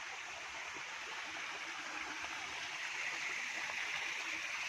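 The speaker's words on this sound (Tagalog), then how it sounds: "Ayan na yung daloy ng tubig." A clear, shallow creek flows steadily in a rural Philippine setting, giving a continuous, close rushing and babbling wash of water with no pauses and no voices.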